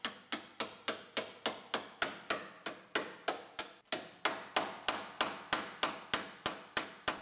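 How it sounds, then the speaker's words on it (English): Rapid metallic hammer blows knock seam welds loose at the bottom of a rusty car frame rail in a steady rhythm, about three per second, sharp and close, continuing without pause. "Knock the seam welds loose at the bottom."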